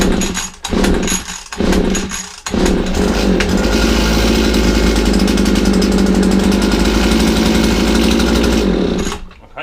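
An old petrol mower or strimmer engine, warm start after sitting unused, is pulled a few times with short bursts, then catches and runs loud and steady with a rough buzzing drone before cutting off.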